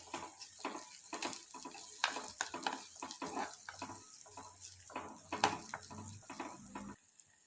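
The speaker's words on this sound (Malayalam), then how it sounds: "ഇച്ചിരിയും തക്കാളിപ്പഴം കൂടെ ഇട്ട് നല്ലപോലെ ഒന്ന് വഴറ്റിയിട്ട്" Tomatoes sautéing in a pan for a curry, giving a close, crackling sizzle with irregular clicks and scrapes of stirring throughout and no speech.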